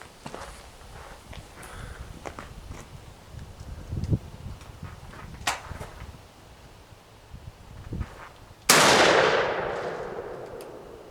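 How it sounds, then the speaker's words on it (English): A shotgun fired with a recoil reducer fitted: one loud, close blast near the end with a long ringing decay, preceded by scattered footsteps and light metallic clinks. "George, fire 2 shots when ready."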